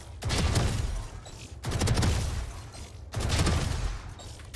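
Three long bursts of rapid video game gunfire from a Call of Duty-style weapon in a Bronze-ranked match, each burst lasting over a second with brief gaps between, loud and dense.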